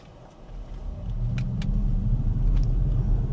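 An XPENG G6 Long Range electric car pulling away from a standstill in sport mode, a low road-and-tyre rumble that swells steadily as it gains speed, with a few faint high clicks inside the cabin.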